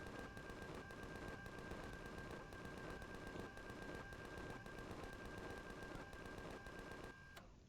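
Rapid, evenly pulsed automatic fire from a vehicle-mounted turret in Empyrion Galactic Survival, loud and unbroken for several seconds before cutting off abruptly.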